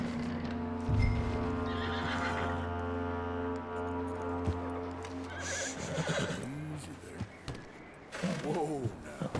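Horse neighing and whinnying in Red Dead Redemption 2, a long loud harmonic whinny over steady game music and ambience, with hoof clip-clop and a few more snorting neighs toward the end.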